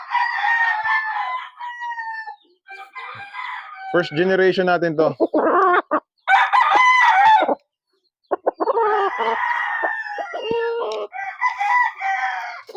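Gamefowl roosters, a McLean Hatch and Sweater cross, crow repeatedly and loudly up close, several long harsh cock-a-doodle calls with short clucks between, while someone speaks briefly in between.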